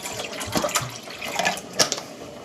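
Tap water pouring into a vessel in a home kitchen, a short bright splashing stream with a few sharper spatters, close and alone.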